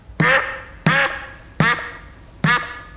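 Four evenly spaced hits on an electronic drum pad set to program 14, each a nasal, quacking synthetic tone that sounds much like a duck and fades quickly, with nothing else between them.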